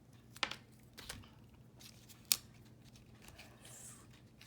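A few sharp, quiet snips of scissors cutting paper while making inside covers for a handmade journal, two distinct cuts separated by a pause, set against a faint room hum.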